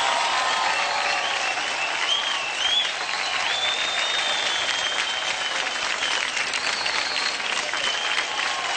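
Audience applauding after a dance performance by an Indian dancer pair, a loud, dense, unbroken round of clapping with a few whistles and cheers rising over it.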